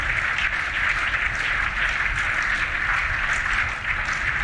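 Long, steady applause from a large crowd within a broadcast news report, a dense, even wash of clapping that carries on without pause or break at a constant level.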